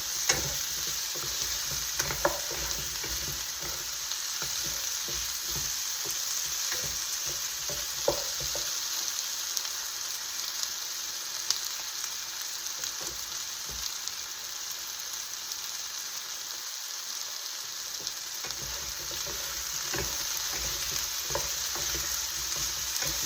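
Two spoons stir and toss food in a frying pan over a steady sizzle, with scattered scraping clicks, close and moderately quiet.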